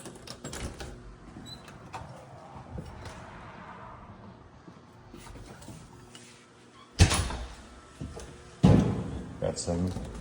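A house door leading out to the side yard, next to the laundry area, is opened and later closed with two sharp knocks and thuds over low room noise.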